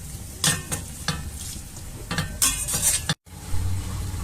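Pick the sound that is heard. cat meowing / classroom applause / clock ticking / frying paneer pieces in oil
frying paneer pieces in oil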